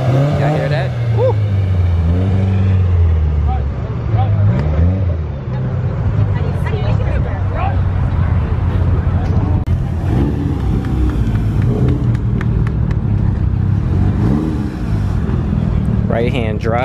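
A boosted engine in a Honda S2000 accelerates hard during an impromptu street race against another Honda, a steady loud roar building from inside the car while people whoop and talk over it.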